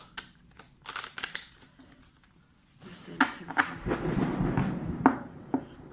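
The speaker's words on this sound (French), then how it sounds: "Je crois qu'il s'éloigne l'orage." Thunder from a passing thunderstorm rolls in as a low, rumbling swell with a few sharper cracks. It follows some light tapping and clicking, and no one speaks.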